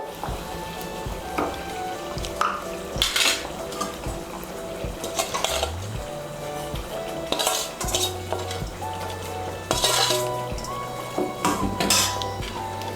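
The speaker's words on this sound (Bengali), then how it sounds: "মাছগুলোকে মিশিয়ে নেব ঝোলের সঙ্গে" Fried katla fish for a Shahi Katla Kalia being stirred into simmering curry gravy in a pan, with repeated clattering scrapes of a utensil against the pot over a steady low sizzle, close and continuous.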